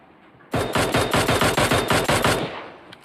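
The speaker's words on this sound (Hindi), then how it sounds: "सामने से फिर फायर आता है तो मैं AKM से उसको नॉक कर देता हूँ बंदे को" Rapid AKM rifle gunfire in a battle royale video game: about a dozen loud shots in a fast, steady burst lasting roughly two seconds, close and alone.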